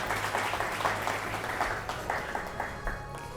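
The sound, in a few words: audience applause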